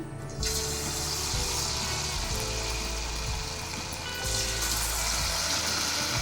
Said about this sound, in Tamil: இதை அப்படியே எண்ணெயில் போட்டு நம்ம பொரிச்சிக்கலாம்